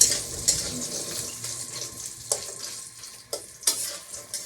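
Bora fritters frying until reddish, a low steady sizzle close by with several sharp clatters and scrapes of a utensil against the pan, no voices.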